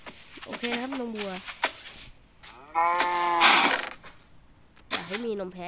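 A cow in the video game Minecraft moos several times in drawn-out, wavering calls, loud and close. One short gap falls between the calls, and no voice talks over them.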